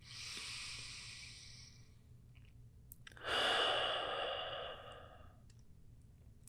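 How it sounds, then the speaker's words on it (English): Slow, soft breaths during a yoga sequence: a long faint exhale, a pause, then a stronger airy breath that fades gradually, close and quiet with no talking. "And just breathe."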